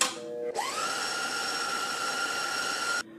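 An electric stand mixer whirs steadily as it churns cream into cultured butter, switching on after a half-second pause and holding a loud, even motor whine for about two and a half seconds before cutting off.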